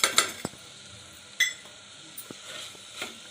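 A spoon clinks and scrapes in a pan as vegetables are stir-fried with a spoonful of pav bhaji masala, giving sharp metallic taps spaced apart over a faint background with no one speaking.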